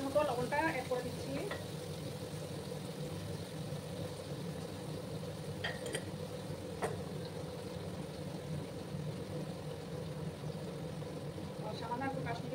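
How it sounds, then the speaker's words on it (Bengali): Paneer pieces fry in a kadai with oil, salt and Kashmiri chilli, making a steady, soft sizzle with light crackles that runs throughout, with a voice faintly underneath. "একটু সোনালি রং করে না আসা অবধি আমি একটু পনিরগুলোকে ভেজে নেব।"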